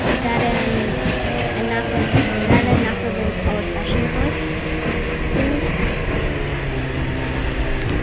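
A heritage tram in the Roblox game rolls along with a steady rumbling motor hum and rhythmic track clatter, while a voice talks over it.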